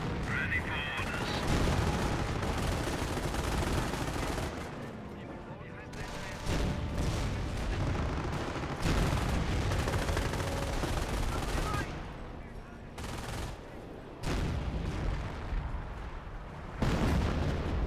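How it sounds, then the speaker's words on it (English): 25-pounder artillery barrage in the video game Company of Heroes: dense, continuous booming and rattling gunfire with repeated heavy blasts in bursts, loud and chaotic, with someone talking over it. "25-pounder barrage there."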